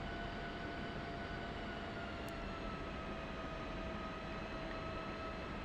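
F-16C Viper jet idling and taxiing in the flight simulator game DCS, a steady, loud, continuous engine roar with a constant high whine throughout, no talking.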